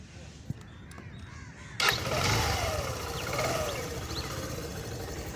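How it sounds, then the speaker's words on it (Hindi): After some faint crow caws, a Suzuki GSX125 motorcycle engine suddenly starts with a cough and settles into a steady idle rumble nearby. "और ये इस मोटरसाइकिल की कुछ साउंड है"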